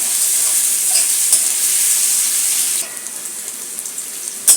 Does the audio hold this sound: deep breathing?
no